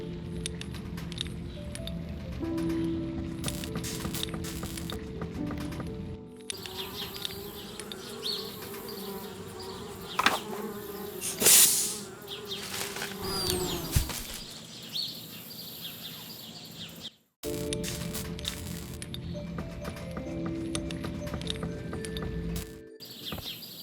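Bees buzz steadily in the video game Anna's Quest, a near, continuous insect drone around a treehouse that swells and fades, with a brief pause before the buzzing resumes.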